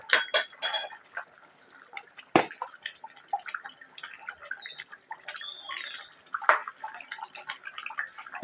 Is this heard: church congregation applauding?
no